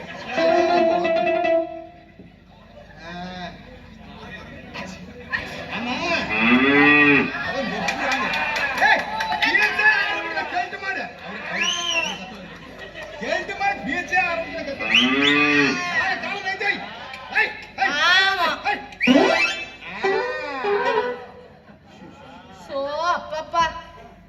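Cows moo repeatedly in a village setting, loud and close, with long drawn-out calls recurring throughout amid background chatter and crowd noise.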